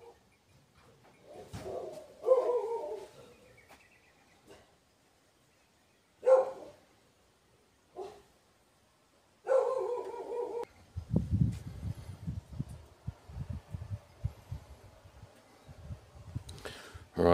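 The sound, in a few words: dogs barking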